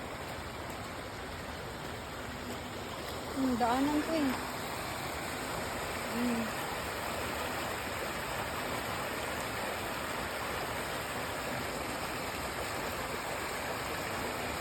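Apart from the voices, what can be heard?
floodwater rushing during heavy typhoon rain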